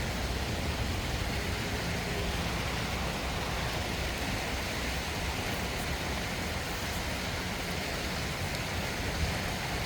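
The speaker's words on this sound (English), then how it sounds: "Right when I just started to come on top, it started raining." Rain falling outdoors on a rooftop while solar panels are being cleaned, a steady, even hiss of drops throughout with no voices.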